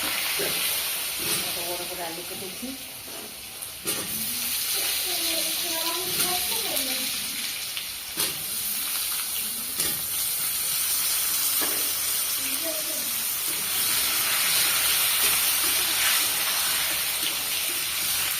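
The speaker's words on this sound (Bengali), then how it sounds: "এখানে আমি জিরে তেজপাতা ফোড়ন দিচ্ছি তারপরে আলুটা একটু ভেজে নেব প্রথমে" Potatoes fry in oil tempered with cumin seeds and bay leaf, giving a steady steamy hiss and sizzle while a person talks over it.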